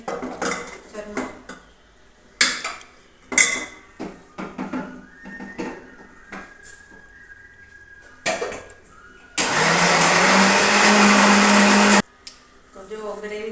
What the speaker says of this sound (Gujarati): હવે આપણે ગ્રેવી કરી લઈએ મિક્સરમાં.